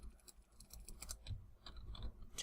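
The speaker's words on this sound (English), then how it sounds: "I hope my keyboard's not too loud." Soft, close clicks of computer keyboard keys being tapped in quick irregular bursts, very quiet and with no voices.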